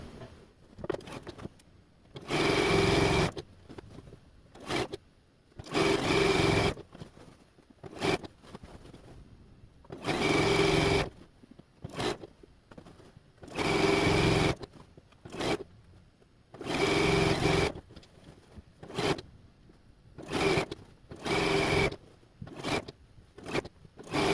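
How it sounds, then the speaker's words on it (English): A sewing machine stitches seams across a large quilt top in repeated loud bursts of rapid whirring a second or two long, separated by short quiet pauses as the fabric is repositioned. "As I go along, you're probably going to notice I'm going to bunch up the fabric and keep most of it on the table just to help with that weight going through my needle."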